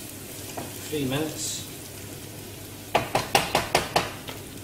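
Chicken tikka masala ingredients fry in a pan, giving a steady low sizzle. A short spoken phrase comes early, then a quick run of sharp scraping clicks as the pan is stirred.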